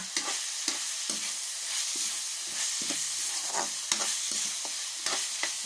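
Holy basil pork with yardlong beans is stir-fried in a pan, giving a steady close sizzle with repeated scraping and clanking of a spatula against the pan.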